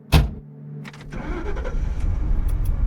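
A car engine starting up: a sharp crank burst, a short pause, then the engine catching and settling into a rising, steady running rumble, close and loud with no voices.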